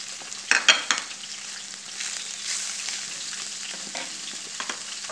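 Chopped onions frying in an oiled pan for Lebanese kousa, with a few sharp sizzling bursts early on, then a steady low hiss of cooking and faint stirring clatter.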